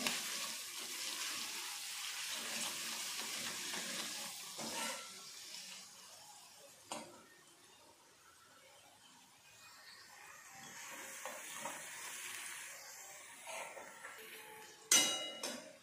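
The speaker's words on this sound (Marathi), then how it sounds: "1 चम्मच आलं लसणाची पेस्ट, हे पण छान परतून घ्यायची कांद्यामध्ये।" Ginger-garlic paste sizzles as it is stirred into browned onions in a pan, a soft continuous frying hiss broken by a few sharp clinks and scrapes of a spoon against the pan, with no talking.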